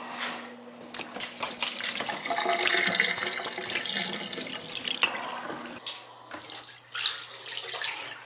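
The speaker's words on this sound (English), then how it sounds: "The sink's open, the faucet's open." Water runs steadily from an open faucet in a large summer home being winterized, a close splashing rush that continues throughout with slight fluctuations.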